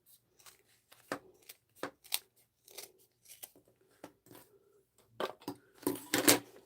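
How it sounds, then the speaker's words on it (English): Scissors trim the fabric edges of a sewn trinket pouch, making a series of crisp, close snips at an uneven pace, with a faster cluster of cuts near the end and no talking. "I'm just going to trim it down."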